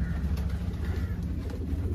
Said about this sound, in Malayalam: ഒരു പ്രാവ് മൊത്തമായിട്ട് ഇരിക്കുന്നുണ്ട്